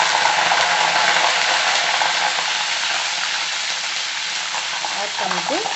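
Mustard seeds, cumin, fenugreek and curry leaves tempering in hot oil for a lentil dumpling curry, making a loud, steady sizzle with dense crackling that holds throughout.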